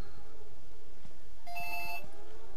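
A telephone in the Ghost Recon Advanced Warfighter 2 game rings with a single bright electronic tone of about half a second over a steady low background hum.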